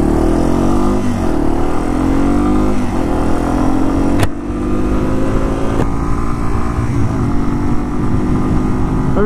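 A Yamaha TW200 motorcycle, a small 200 cc bike, rides along loudly with its engine droning and rising through the gears, one brief shift dip midway, no talk over it.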